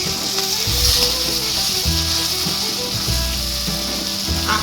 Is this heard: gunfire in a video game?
no